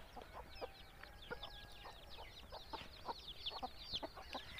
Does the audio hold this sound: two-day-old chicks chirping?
yes